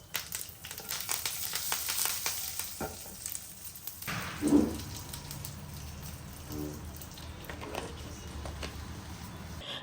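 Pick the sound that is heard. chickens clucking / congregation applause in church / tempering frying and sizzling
tempering frying and sizzling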